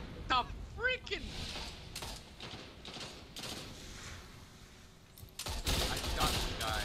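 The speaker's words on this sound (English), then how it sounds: "I shot the guy." Video game gunfire: a few sharp shots and short bursts scattered across the clip, the loudest cluster near the end, mixed with game effects and a player talking throughout.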